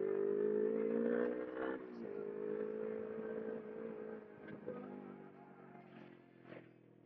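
A Ninja 250R motorcycle engine drones steadily while riding, a continuous close hum that dips slightly partway through, with a voice faintly over it.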